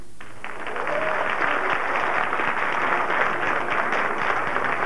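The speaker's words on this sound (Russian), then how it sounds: "Я буду называть, а вы аплодируете." A comedy-evening audience breaks into sustained applause, many hands clapping in a dense, even roar that starts abruptly and keeps going at full strength.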